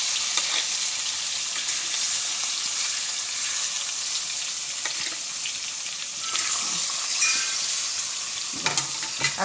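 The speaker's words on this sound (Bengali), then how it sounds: "দেখেন মাছটা এখন আমি ভেজে নেব। তেলটা গরম করে নিয়েছে মা।" Fish frying in hot oil gives a steady close crackling sizzle throughout, with a few knocks and scrapes of stirring and a brief clatter near the end, no voices.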